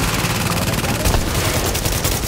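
Dense rapid automatic gunfire in the video game The Division, a loud continuous burst of crackling shots filling the whole moment without pause.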